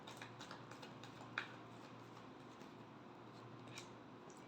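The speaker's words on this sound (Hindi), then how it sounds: "Last shuffle." Tarot cards being shuffled by hand, producing soft, faint papery ticks and flutters at close range with one sharper snap, under a low steady background hum and no talking.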